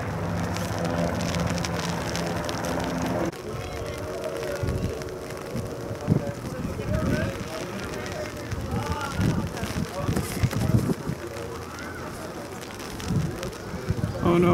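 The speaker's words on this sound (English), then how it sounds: "The rain would kind of go away, would be nice." Steady rain patters on surfaces at a wet antique airshow, a constant hiss with occasional louder thuds, while people talk nearby.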